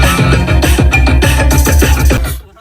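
Music plays from the Bang & Olufsen speakers inside an Audi R8, a loud, rhythmic track with a steady beat heard close in the cabin, fading out at the end.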